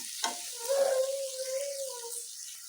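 Chopped capsicum, garlic and ginger fry in a pan for chicken manchurian, a thin hiss under a brief stir and a faint sliding, whistling tone, close and fairly quiet.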